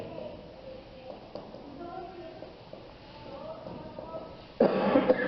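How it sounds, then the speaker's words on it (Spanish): A person speaks quietly, then a sudden, loud cough bursts out near the end, close to the microphone. "traigo todavía un poquito de tos, entonces de repente se oye que toso"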